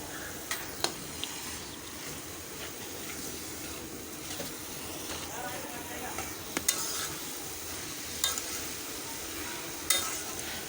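Onion with Malabar spinach stems and finely chopped leaves is stirred in hot oil, giving a steady, close sizzle broken by sharp scrapes and clinks of the spoon against the pan.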